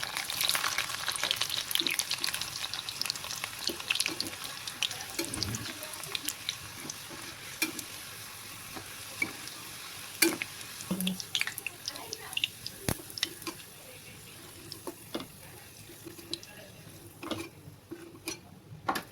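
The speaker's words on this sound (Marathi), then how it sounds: "कांदा लाल झालेला असाच तळून लसणाला बी असं त्याच्यात तळून घ्यायचं" Onion and garlic frying in a pan for a paneer masala, a continuous sizzle with scraping stirs and scattered crackles, louder at first then easing off, with faint voice-like sounds in the mix.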